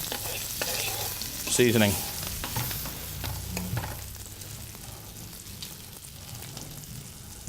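A cumin-crusted pork chop sears in a pan with a dollop of butter, giving a steady close sizzle with a brief louder sputter early on; someone speaks briefly over the frying.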